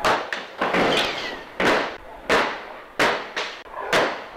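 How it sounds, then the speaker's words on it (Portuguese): A rapid series of gunshots in a daylight shootout between drug traffickers in a hillside community in Vila Velha, Brazil, about eight sharp, echoing cracks fired one after another at irregular intervals, loud and close. "A sequência de tiros assusta."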